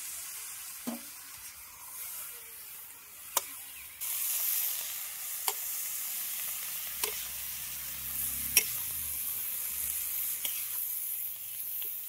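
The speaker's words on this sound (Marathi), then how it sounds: "मस्त कांदा टोमॅटो आणि मसाला एकजीव झालाय, चांगला भाजलाय." Onion, tomato and onion-garlic masala fry in a kadhai with a soft, faint hiss, punctuated by occasional sharp spatula taps against the pan.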